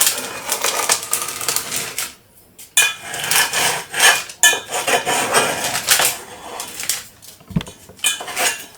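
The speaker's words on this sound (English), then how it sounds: "I'll use the edge of the spoon just to make markings around it." The edge of a spoon scrapes and taps around a metal baking pan while marking it out for a Victoria sponge cake, a run of close, clattering metallic scratches broken by short pauses.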